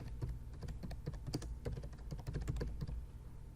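Someone types on a computer keyboard in quick, uneven bursts of soft clicks, close and quiet, with no voices heard.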